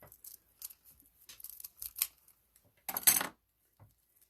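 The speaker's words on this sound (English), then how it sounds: "So just lay it on your board, figure out where your 3 inches is, which is about right there. And you're just going to cut that off." Scissors snip through ribbon tails for a quilted-star petal wreath: a few quiet, scattered cuts and rustles, with one louder crisp snip near the end, no talking.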